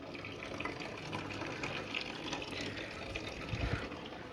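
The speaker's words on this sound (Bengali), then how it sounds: "জলটা ভরা হচ্ছে।" Water running steadily into a container from a tap on a rooftop garden, used for watering plants; a continuous, moderately loud gushing flow with no talk.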